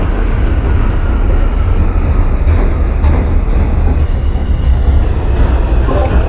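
An NYC Subway R142 train on the 5 line, simulated in the OpenBVE game, runs steadily, producing a loud, continuous rumble of motor and wheels with no voices.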